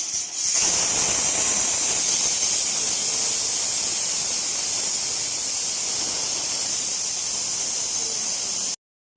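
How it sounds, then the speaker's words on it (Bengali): A pressure cooker on the stove hisses out a steady, loud rush of steam that holds for several seconds with no spoken voice, then cuts off abruptly near the end. "3টে সিটি মেরে নেব।"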